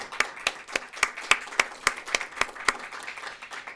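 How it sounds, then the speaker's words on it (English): Listeners at a film screening and policy lecture applaud the panelists with sharp, evenly spaced claps, about a dozen in a steady rhythm, close and fairly loud. "Let's give another round of applause to our fabulous panelists."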